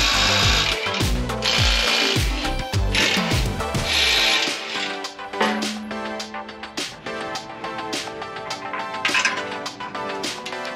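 Power tool whirring in bursts while bolts are removed from the skid plate of a Toyota 4Runner, loud and close, with a tonal motor whine midway and lighter mechanical clatter after.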